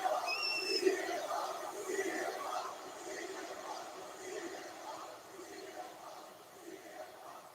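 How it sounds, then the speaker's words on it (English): Wrestling arena crowd at a WWE SmackDown show, a broad wash of cheering and chatter that is loudest at the start and then settles into a steady, slightly distant roar. "holding the mic up so the crowd can hear themselves"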